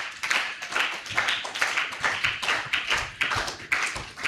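Hands clapping in a church during a children's Sunday service, a steady run of sharp claps at moderate distance that continues throughout without speech.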